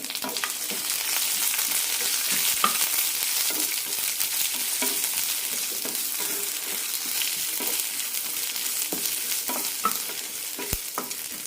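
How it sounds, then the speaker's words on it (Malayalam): Sliced onions, small onions, ginger, red chilli and curry leaves sauté in a hot pan while being stirred, producing a steady close sizzle with scraping stirs throughout and no talk. "സവാളയ്ക്കെല്ലാം ചെറിയൊരു ചുവന്ന കളർ വരണം ഇതിലേക്ക് കുറച്ച് ഉപ്പ് കൂടി ഇടാം നന്നായി വഴറ്റാം"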